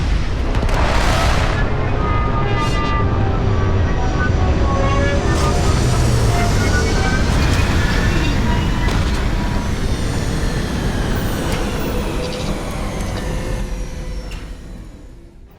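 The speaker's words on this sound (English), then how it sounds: "Captain, landing procedure initiated." Spaceship landing in the video game Starfield: a loud, sustained roar of engines and rumbling thrust with booming low end and rising whines, fading slightly near the end; no speech over it.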